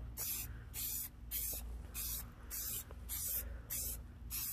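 Spray paint hisses from a can onto PS5 console covers in a series of about eight short, steady bursts with brief pauses between them, close up over a low background hum.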